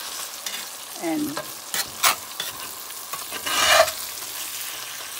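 A spatula chops and breaks fried green tomatoes into small pieces in a frying pan, a few sharp scraping strokes over a constant close sizzle, with a brief spoken word in the middle.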